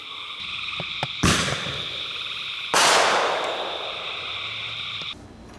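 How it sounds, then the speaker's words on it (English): Two sharp, loud reports from a small ball shell firework fired from a mini artillery shell ring out a second and a half apart over a steady background of croaking frogs. "The next shot will be the small ball shell."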